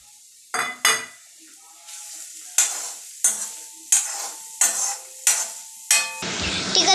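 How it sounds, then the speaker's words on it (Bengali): Carrots frying in butter in a pan are stirred with a utensil, giving about nine sharp scraping clinks at a steady, irregular rhythm over a soft sizzle, close and clear. "আমি একটু নাড়িয়েও নেব।"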